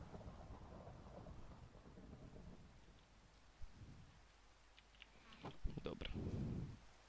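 Minecraft thunder rumbling over steady in-game rain, with a sharp crack near the end building into a loud, low roll; a voice talks briefly early on.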